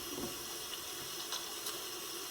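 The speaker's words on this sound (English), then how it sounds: "So I do that twice, and then I rinse my hands." Water runs steadily from a tap into a sink while hands are rinsed during handwashing for dialysis care, a soft continuous hiss and splash with no voices.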